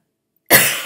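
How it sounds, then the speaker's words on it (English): A single harsh cough bursts in after silence, close and loud, with no talking around it. "Apologize for the coughing"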